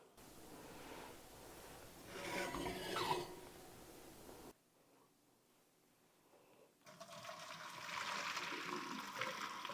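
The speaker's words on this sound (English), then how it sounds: "All right, we're going to drain the pasta." Water pours and splashes as cooked pasta is drained in a kitchen, a rushing gush that cuts off briefly, then returns as a steady stream.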